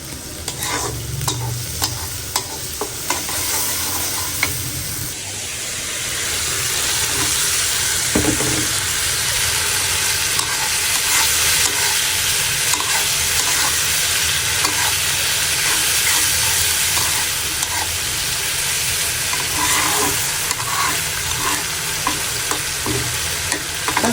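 Shrimp curry with dried chillies stirred and frying in a pan, a steady loud sizzle with intermittent scraping of the utensil against the pan, close up and continuous with no voices.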